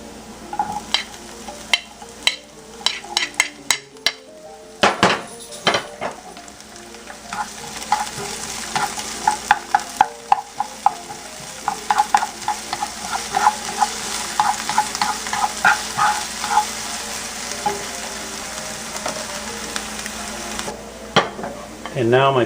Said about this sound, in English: Now I'm going to add my onions.